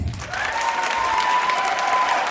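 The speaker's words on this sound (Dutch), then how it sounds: "Uw applaus voor Lien van Ketz." Dense applause from a gala audience at a Miss Fashion award ceremony, steady and full from start to finish with a faint tone running through it.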